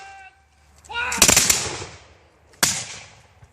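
Black powder muskets fire in a Revolutionary War reenactment homestead raid: a ragged volley of several close, loud cracks around the first second, then one more sharp shot, with voices faintly underneath.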